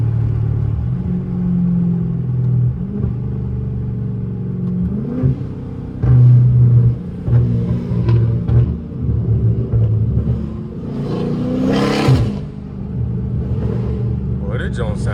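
Dodge Charger Scat Pack car engine rumbling low while driving, with a few revving surges over the steady drone, heard up close with someone talking over it.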